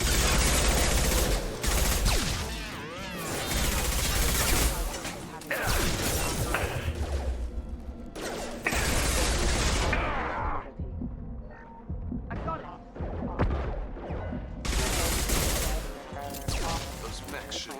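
Rapid gunfire aimed at hostile mechs in Mass Effect 2, dense bursts of shots with heavy low booms and throbbing impacts, loud and continuous with short lulls in the battle.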